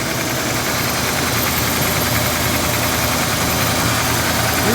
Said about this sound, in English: that's the cold start.